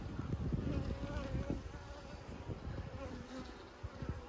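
Calm honey bees buzz around an open hive while a new queen is being marked, a soft, continuous droning hum with wind noise and handling sounds close by.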